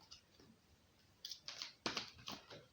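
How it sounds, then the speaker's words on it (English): Cards are tossed down one after another for an I Ching reading, making a few quiet, crisp slaps and shuffling flicks close by in a hushed room. "let's just throw a few cards here to get a bit more"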